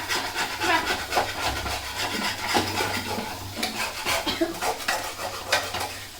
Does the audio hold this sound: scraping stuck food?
yes